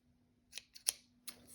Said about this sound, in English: So I just need to get my scissors and do a little bit of trimming around here